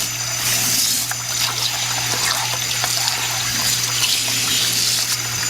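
Water runs steadily from a tap while a molcajete stone mortar is scrubbed with a brush during curing, a continuous loud rush with a low hum underneath and no talk.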